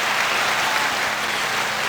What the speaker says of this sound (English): hit the applause button